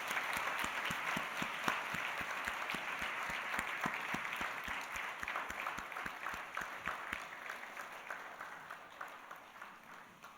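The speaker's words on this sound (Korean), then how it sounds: "우리 한번 박수 한번 쳐드리도록 하겠습니다" Church congregation claps together for elderly members during a Sunday worship service, a steady, fairly loud round of applause with sharp individual claps that gradually thins and fades toward the end.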